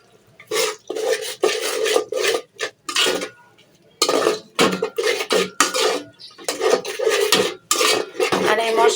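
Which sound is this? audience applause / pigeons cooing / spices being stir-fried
spices being stir-fried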